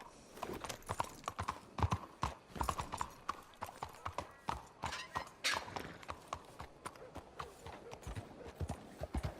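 A horse's hooves clip-clop steadily in Red Dead Redemption 2, a brisk rhythmic series of sharp strikes at moderate distance, with occasional faint snorts or whinnies and no talk.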